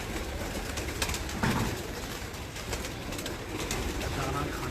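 A flock of kept pigeons keeps up a continuous low cooing, with a brief louder thump or flutter near the start and faint background noise beneath.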